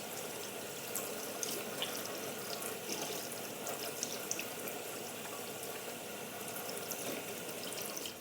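Water runs steadily from a kitchen sink tap, a continuous hiss with small splashes and drips, close and moderately quiet, with no talking.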